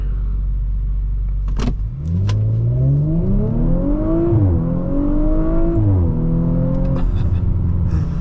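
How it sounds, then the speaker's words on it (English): A 2018 Audi RS5 Coupe engine revs up, its pitch climbing through several gears in rising sweeps, loud and close, with a short click near the start. "I love the way it accelerates."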